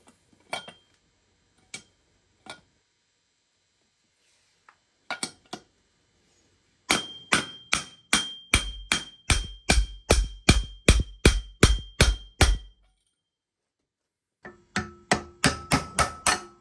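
Metal hammer strikes driving an old bearing race down onto a motorcycle steering stem on a 1996 Suzuki RM125, a few scattered taps followed by a fast, steady run of loud ringing blows, then another short burst.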